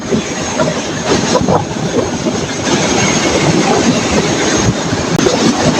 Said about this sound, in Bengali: আলমডাঙ্গায় ট্রেনে আসতেছি আমরা